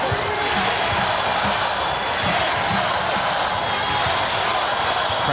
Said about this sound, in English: Crowd trying to urge this Hawaii service-receive game on.